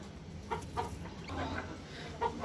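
A brooding hen clucks near freshly hatched brown chicks, sitting on fifteen eggs in a home poultry setup; several short, close clucks come in separate bursts over a low background hum.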